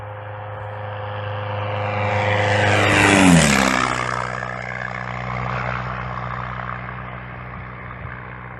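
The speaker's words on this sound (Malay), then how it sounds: "Bunyi kipas kapal terbang semasa ia terbang melepasi kita." A propeller plane drones closer, swelling to a loud pass overhead with a falling pitch, then fades into the distance.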